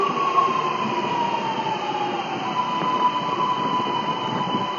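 A Sydney Metro train at Chatswood station gives off a steady, loud hum and drone with a sustained high whine like squealing wheels or motors, holding evenly throughout with no voices.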